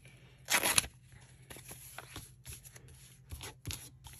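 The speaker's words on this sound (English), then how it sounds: "We'll go ahead and cut just a little bit off here." A small piece is snipped off a layer of fabric on a paper envelope with scissors, giving one louder close cut followed by several quieter, brief snipping and rustling sounds.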